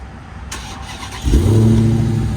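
A 2022 Dodge Challenger Hellcat Redeye Widebody remote-started, the starter whirring briefly before the supercharged engine catches with a loud bark and settles into a deep, steady rumbling idle, close by.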